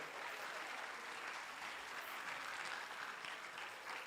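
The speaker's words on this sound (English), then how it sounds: "Let's clap for them" An audience at a national investment quiz semi-final applauds the finalists, a dense, even patter of clapping that stays level throughout, heard from a short distance with no talking on top.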